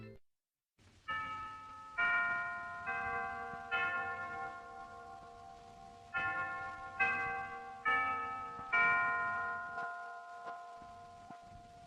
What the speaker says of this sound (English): one consists of a clock tower chime